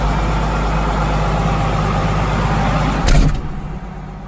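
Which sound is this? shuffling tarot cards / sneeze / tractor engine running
tractor engine running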